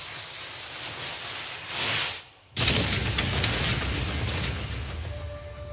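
A loud blast cuts in after a brief lull, followed by a long rumbling, hissing roar that slowly fades.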